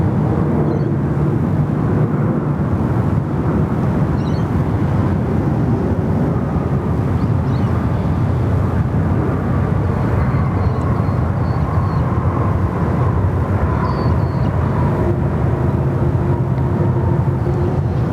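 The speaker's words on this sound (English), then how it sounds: "Here we go, Qantas A330 freighter. Morning, taxi." A Qantas Airbus A330 freighter taxis at Sydney Airport, its engines a steady low rumbling drone that holds evenly for the whole stretch, fairly loud with no talk over it.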